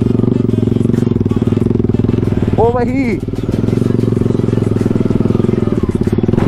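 Motorcycles riding off-road on rough ground, a loud, steady engine drone close by throughout, with someone shouting briefly over it.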